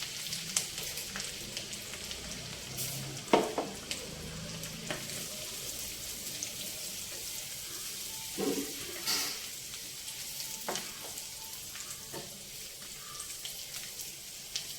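Finely chopped ginger, garlic and green chillies fry in a pan, a soft continuous sizzle with occasional stirring clinks and knocks, close by and fairly quiet, with no one talking.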